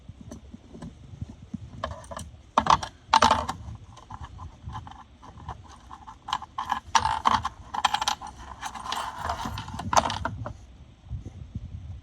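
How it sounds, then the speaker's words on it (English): Small screws are worked out of a center console, with scattered metallic clicks, ticks and rattles of loose hardware close by and no talk. "there's a screw here and one on the other side, so you know what it looks like taking screws out"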